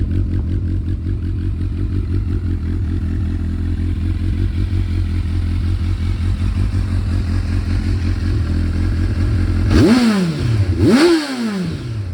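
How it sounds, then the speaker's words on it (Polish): A 2008 Honda CBF 1000SA motorcycle engine idles with a deep, steady bass rumble, then revs sharply twice near the end. "jak słychać motocykl wcale nie jest głośny. Bardzo fajny basowy pomruk."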